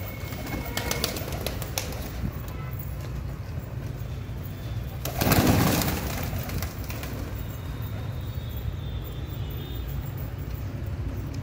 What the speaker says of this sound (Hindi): ये एक पचास साठ कबूतर हो सकते हैं